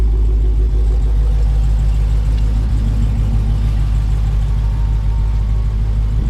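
A Dodge Demon and a Corvette C7 Z06 in a night roll race, heard as a loud, continuous low engine rumble with a steady drone and no talking.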